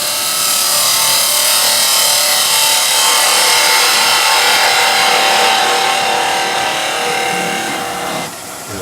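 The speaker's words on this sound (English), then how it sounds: "So, Skew Chisel just to clean up." A skew chisel cuts across the tailstock end of a wood workpiece spinning on a lathe, giving a steady, close, bright scraping hiss that runs continuously and eases off near the end, with no talking.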